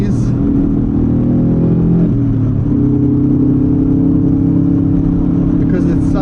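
A Subaru STI V2 555 edition pulls up a hill with a loud, steady engine drone that shifts pitch slightly midway, close to the mic, with a voice talking over it.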